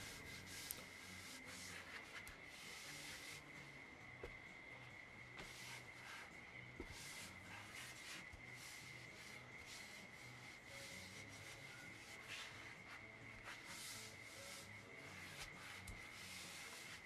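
A guitar body is hand-sanded with coarse sandpaper. Faint, steady rubbing strokes continue for about seventeen seconds, alone and without pauses.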